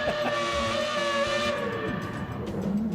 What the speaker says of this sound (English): watch Sunken in the F1 car